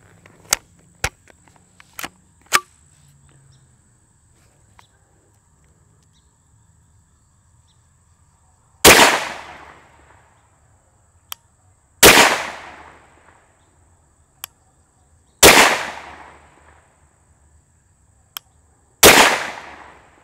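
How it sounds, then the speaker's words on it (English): A Glock 34 pistol fitted in a Mectech carbine unit with a 16-inch barrel fires four or five loud, sharp 9mm shots spaced a few seconds apart, each with a ringing decay, alongside faint clicks in between. "we took 5 shots with it over the chronograph"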